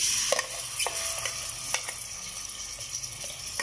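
Onion frying in ghee in a pot, a steady soft sizzle with a few scraping stirs at low level, no talking.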